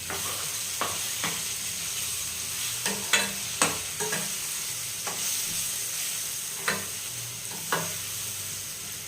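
Stuffed brinjal curry with masala stirred in a frying pan, soft steady sizzling broken by repeated scraping strokes of the spoon at an uneven pace, close and alone.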